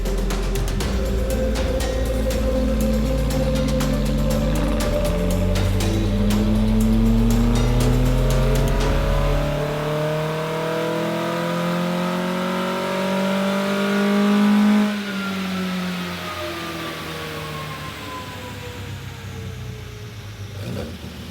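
A Datsun 1600 with an L series engine runs on a dyno, its loud engine note climbing steadily in pitch through a long pull, then the revs drop away and it settles back toward idle.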